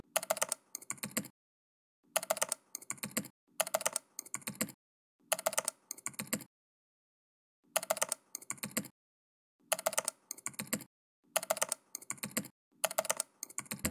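Rapid bursts of typing on a computer keyboard while filling in a data entry form, repeated in short clusters of close, crisp key clicks separated by brief silent pauses.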